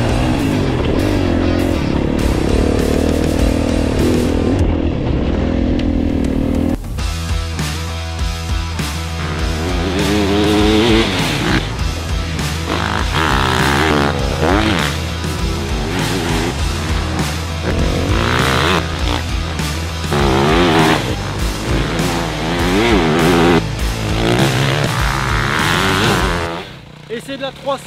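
A Honda 300 RX four-stroke motocross bike revs loudly and continuously, its engine pitch rising and falling through repeated throttle blips up close, with people talking over it.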